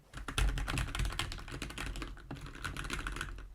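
Rapid clacking keystrokes on a mechanical keyboard with Gateron Red switches, very close to the microphone and continuous, with a brief pause midway before the typing resumes.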